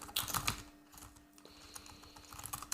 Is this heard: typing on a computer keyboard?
yes